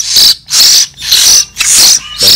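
Young hill myna chicks from Đắk Lắk give loud, close, rapid begging calls in four or five harsh, raspy bursts, each about a third of a second long, with short gaps between them and no voices.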